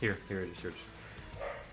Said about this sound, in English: I'm sorry, that's my dog barking.